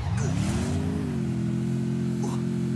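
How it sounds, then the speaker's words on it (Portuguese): A motorcycle engine in a video game revs up steadily and holds a loud, sustained drone that rises in pitch then levels off, with faint game noise over it and no clear talk. "Pegar essa moto aqui pra dar uma adiantada"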